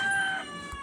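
Chickens being fed chopped leafy greens make a short burst of fowl calls that sound close and moderately loud. No one speaks over them.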